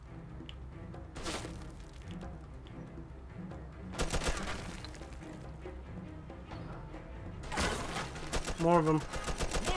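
Bursts of gunfire in the Mafia 2 video game crackle in three dense volleys, loud and close, with rapid repeated shots, while players talk over the action.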